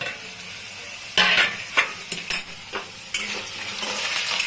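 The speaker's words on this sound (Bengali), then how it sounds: "এখন ঢাকাটা তুলব" A lid comes off a pan of frying potatoes and browned onions with a sudden clatter, followed by a few metallic knocks and a rising, continuous close sizzle.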